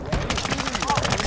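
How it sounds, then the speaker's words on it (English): Gunfire during a Call of Duty DMZ match in Building 21: a rapid automatic burst of about a dozen sharp, closely spaced shots, loud and near. "Hey, why are you shooting?"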